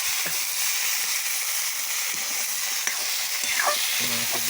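Meat goes into a pan of fried onions and fries with a dense, continuous sizzle. Occasional stirring scrapes and light clinks come through up close, with no talking.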